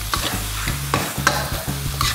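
Korat-style rice noodles stir-fry in a hot pan with egg and vegetables, a loud continuous sizzle broken by quick rhythmic scraping strokes of the spatula, close and without talk.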